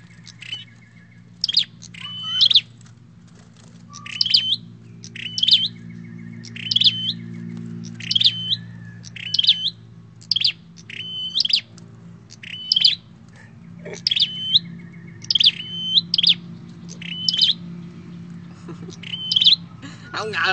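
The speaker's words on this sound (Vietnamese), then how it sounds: "Đây là bói rừng nha mọi người, chứ không phải là chim nuôi gì hết nha." A wild bói rừng bird chirps close by, sharp bright calls repeating about every second for twenty seconds over a low steady hum.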